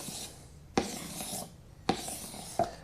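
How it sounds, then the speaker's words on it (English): Knife blade edge being sharpened on the 1200 grit side of a sharpening stone, three rhythmic rasping strokes, each opening with a sharp scrape, close and clear with no talk. "Now I've got the 1200 grit side, and I can actually put a polish on it here"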